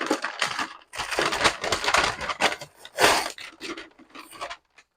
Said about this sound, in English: Pull that butcher paper off.